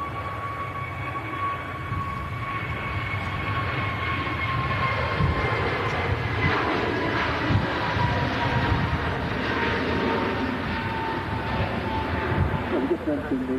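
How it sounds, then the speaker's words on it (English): A Pegasus Airbus A321neo airliner rolls out for departure to Istanbul at Manchester, its engines a broad, steady roar with whining tones that swell gradually, heard from a distance over continuous open-air noise. "Pegasus A321neo on the taxi out, on the departure, rather, to Istanbul."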